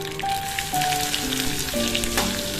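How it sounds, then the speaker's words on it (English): Mustard and cumin seeds crackle in hot oil for a vegetable sambar, giving a steady close sizzle with light popping throughout, and no voices. "Followed by a teaspoon of mustards, jeera or cumin seeds and wait till it splatters"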